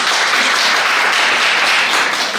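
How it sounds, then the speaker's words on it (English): An audience at a conversation event in Trinidad on the Indian diaspora applauds Gerald for his presentation, with loud, dense, sustained clapping filling the room throughout. "The first one is that you must applaud Gerald."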